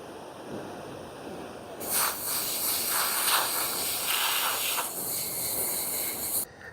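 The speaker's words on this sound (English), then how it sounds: "you're going to want to rinse out anything that might have got stuck in it" Running water rinses a robotic pool cleaner's filter, a steady broadband hiss and splash that starts abruptly and continues for several seconds before cutting off.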